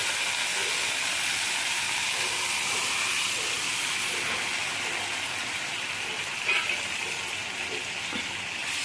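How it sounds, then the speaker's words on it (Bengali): Water from boiled potatoes poured into vegetables frying in a pan for masala dhokar, giving a steady broad hiss and sizzle that holds at an even level throughout, with a small brief bump near the end. "এবার এর মধ্যে আমি একটু আলু সিদ্ধ করার জলটা আমি দিয়ে দিই"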